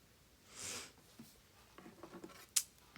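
Quiet snips and paper rustling from scissors cutting, with one brief sharp snip standing out near the end, in a hushed room.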